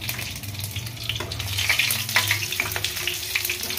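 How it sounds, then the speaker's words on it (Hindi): Eggplant slices frying in hot oil, crackling and sizzling steadily with spitting pops throughout, loud and close, with no talk. "इसमें हल्का सा पानी होता है ना, इस वजह से चटर चटर आवाज आ रही है।"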